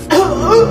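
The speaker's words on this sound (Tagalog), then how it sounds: "Inuubo na." An elderly person of about 75 coughs once, a short throaty hacking burst that trails into a rough, voiced exhale, close and loud.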